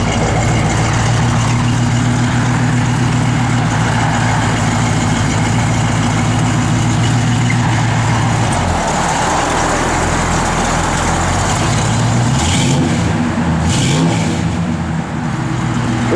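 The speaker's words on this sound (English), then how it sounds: "Good sounding small block." The small block engine of a 1972 Chevrolet Chevelle SS runs steadily at a loud, close, deep rumbling idle, then briefly revs up and settles back down near the end.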